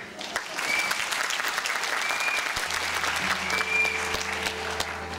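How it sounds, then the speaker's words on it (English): Audience applause at a singing contest show, a broad steady crowd of clapping hands heard from a little distance for several seconds, with a low hum and some chatter in the background. "that deserves a round of applause"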